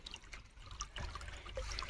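A thin trickle of irrigation water runs faintly and steadily in a village field, a low continuous flow with small splashy textures.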